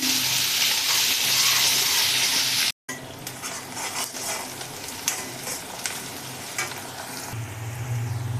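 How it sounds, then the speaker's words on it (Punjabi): Onions frying over low heat in a pan for a Punjabi langar-style dal tadka, a steady dense sizzle with occasional stirring scrapes, close and continuous apart from a brief cut near the start. "ਲੋ ਜੀ ਹੁਣ ਆਪਾਂ ਪਿਆਜ਼ ਵੀ ਚੰਗੀ ਤਰ੍ਹਾਂ ਦੇ ਨਾਲ ਭੁੰਨ ਲਵਾਂਗੇ"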